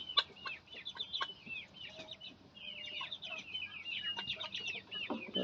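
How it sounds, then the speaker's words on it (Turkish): Young Indian game (Shamo) chicks cluck and peep busily while pecking at chick feed, with bright chirps coming close and steadily across the whole stretch, some overlapping, over a low background murmur. "Civciv maması yiyor."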